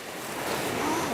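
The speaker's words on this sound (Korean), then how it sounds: "시원한 파도 소리 여러분도 들리시죠?" Ocean surf washes onto the East Sea beach in a brief, steady broadband rush that swells slightly louder toward the end, with faint wind noise.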